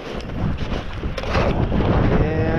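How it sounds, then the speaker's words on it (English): Strong wind gusts across a frozen mountain lake (Lockdale Lake) on a winter hike toward Otis Peak, a loud roaring buffeting on the microphone that surges and wavers throughout without speech. "The wind is blowing pretty good."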